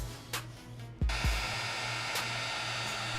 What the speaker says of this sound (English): When it comes to the heat, you want to make sure you're using a heat gun.